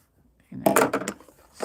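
A short burst of crisp snipping and rustling close by as scissors trim quilting fabric, a few quick cuts in a row after a moment of near silence.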